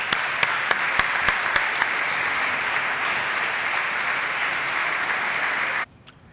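Audience applause for a speaker at a political philosophy talk, a dense, even roar of many hands with a few sharp near claps early on, sustained for nearly six seconds and then cut off abruptly.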